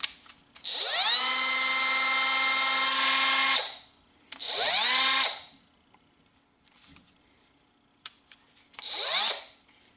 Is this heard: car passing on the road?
no